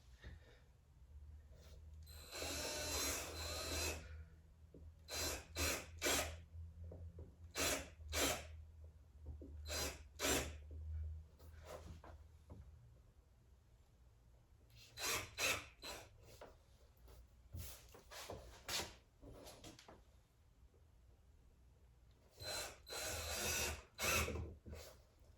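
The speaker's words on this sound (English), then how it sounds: "I'm using this much thicker drill bit to make room for the screw heads" A power drill with a thick bit bores into wood to make room for screw heads on a bracing frame for a home exhibition board, whirring in repeated short bursts over a low steady hum, close and moderately loud.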